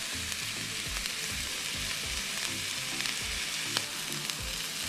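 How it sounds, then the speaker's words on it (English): Shallots, garlic and rosemary sauté in a pan with a steady close sizzle and crackle, a few light stirring knocks on top. "So we're gonna have some shallots and garlic and some rosemary. We're gonna saute"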